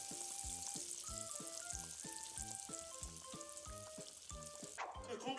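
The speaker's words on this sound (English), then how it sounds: "Because it like rises though while it's deep frying initially, so that's why it's like spread out on the panko." Panko-coated katsu deep frying in hot oil, with a steady hiss and crackle that is partly buried under loud background music with a regular beat.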